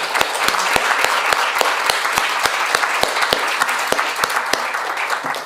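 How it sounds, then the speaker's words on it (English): Audience at an international art critics' conference applauding after a panel, loud rhythmic clapping with sharp individual claps standing out over a dense wash, fairly close and steady throughout. "Thank you very much, and let's give another round of applause."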